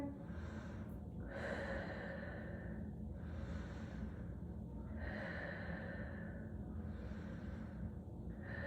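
Slow, deep breaths taken in child's pose during a yoga-style stretch, about four long inhale-exhale cycles, close and audible with a soft airy rush, under a steady background hum.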